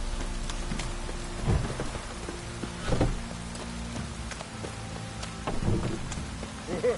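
Steady rain in The Witcher 3 video game hisses over a low background hum, with a few soft rumbling thuds breaking through at intervals.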